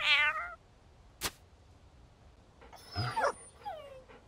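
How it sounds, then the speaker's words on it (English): A cat meows in a video game, with a couple of short, bright meow calls at the start and end and a sharp click in between. "Flower Petals is obviously a cat"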